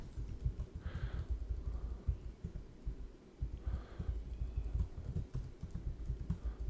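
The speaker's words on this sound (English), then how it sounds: "I'm on a crappy keyboard, so this is going to take a little while." Typing on a cheap computer keyboard, a quick irregular run of soft clicks and key taps in small bursts with brief pauses, close to the microphone and fairly quiet.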